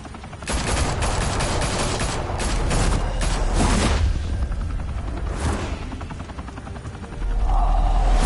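Loud bursts of rapid automatic gunfire ring out in the Batman Telltale Series video game, clustering over several seconds before easing into a lower rumble and a mechanical hum.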